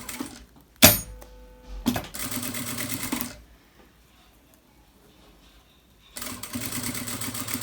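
A sewing machine stitches bias tape in close, fast whirring runs: a short burst, a longer run after a clunk, a pause of near silence, then another run starting up.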